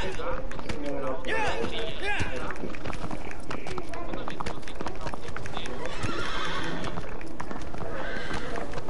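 Horse hooves gallop in a steady clip-clop, and a horse neighs in the Shadow of the Colossus video game. Someone talks loudly over the game sounds throughout.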